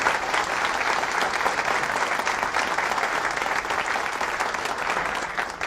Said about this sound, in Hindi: ताली बजाइए जोर से आप लोग,